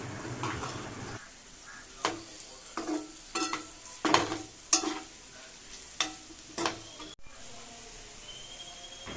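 Okra (lady's finger) stirred and frying in oil in a pan: a series of scraping, clattering stir strokes over a steady sizzle, close and fairly quiet, with no talk.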